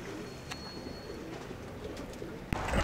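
Pigeons in a rooftop loft coo softly in the background, a faint low murmur amid quiet ambient noise, ending with a sudden louder rustle or knock.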